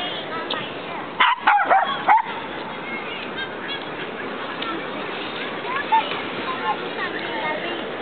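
A puppy gives a quick burst of three or four sharp, high barks and yips near the start, then a single faint yip later, over steady background hiss with people talking around it.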